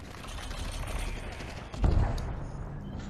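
Gunfire in the virtual reality shooter Population One, a steady rattle of distant shots with one louder burst near the middle, mixed with game noise and other background sound.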